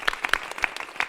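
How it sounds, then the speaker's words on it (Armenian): A small audience at a morning children's ethnic music ensemble concert gives sparse, scattered claps at a brisk, uneven rhythm, fairly quiet and close. "Այստեղ ծափեր են հնչում"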